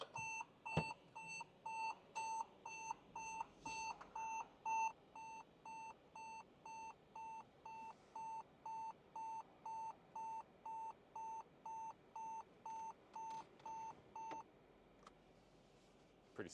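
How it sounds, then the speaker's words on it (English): Repeated electronic beeping in a steady, regular rhythm, a Mercedes G-Wagen Cabriolet warning tone sounding for many seconds before stopping after the park brake is applied, with faint clicks and handling noises. "now you'll hear the beep"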